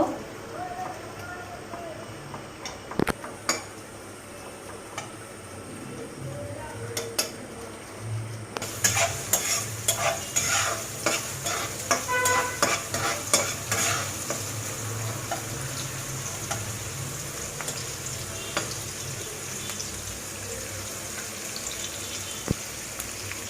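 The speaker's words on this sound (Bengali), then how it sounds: "কয়েক সেকেন্ডের মতো এইভাবে একটু ভেজে নিব।" Mixed vegetables with spice paste fry and sizzle in a pan, with stirring and scraping clatter growing busier partway through and a steady hiss underneath, near and moderately loud.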